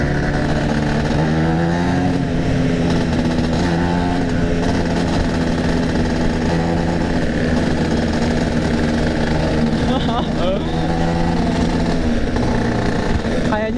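A Vespa scooter engine runs loud and close on a road among other Vespas, holding a steady throttle with rising and falling revs and surrounding traffic noise, while a voice talks over it.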